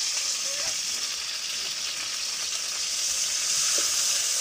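Taro frying in hot cooking oil, a steady bright sizzle and crackle holding at an even level throughout, close and alone, with a couple of faint light knocks.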